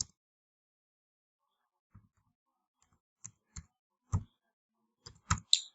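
Keys click on a computer keyboard in a quiet room. After a pause, a short burst of separate taps comes in quick, uneven succession, close and fairly faint.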